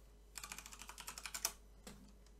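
A computer keyboard is typed on in a quick run of about a dozen close, crisp keystrokes, followed after a pause by two more taps, with no talking.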